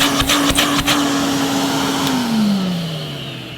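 A 1977 Hoover 427 vacuum cleaner runs with a steady, loud motor whine that holds for a few seconds and then drops in pitch toward the end.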